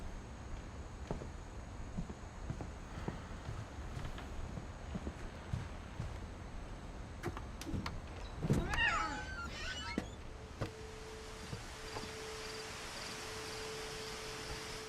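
A cat meows once amid a quiet ambient game soundscape in What Remains of Edith Finch, a short wavering cry partway through, followed by a steady tonal hum.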